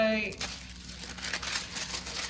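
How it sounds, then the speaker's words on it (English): A sheet of tracing paper rustles and crinkles as it is handled and laid down, soft close crackles following the tail end of a voice. "let's pop another piece of tracing paper over the top."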